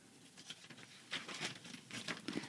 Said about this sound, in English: Loudly shuffling paper.